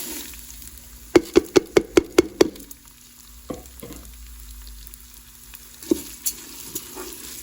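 Dry white rice dropped into hot oil in a Ninja Foodi, giving a quick run of seven sharp crackling pops followed by a low steady sizzle and a few later scattered spits and stirring clatters.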